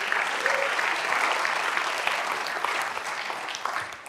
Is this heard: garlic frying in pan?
no